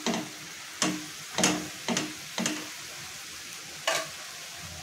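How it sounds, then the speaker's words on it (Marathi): Leafy greens being stirred with salt in a pan, a soft background sizzle broken by about six distinct scraping stir strokes spaced irregularly, close and fairly quiet. "आता फक्त पालेभाजी पुरतच आपल्याला मीठ टाकायचं आहे आणि मिक्स करून घेऊयात आपण"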